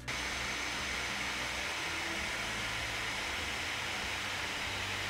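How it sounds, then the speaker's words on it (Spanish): Cooling fans of an Asus gaming laptop running at full load give a loud, steady whooshing hiss, an unbroken airy roar with no talk. "Os dejo unos segundos con el ruido que hacen sus ventiladores cuando están intentando que las temperaturas no se disparen."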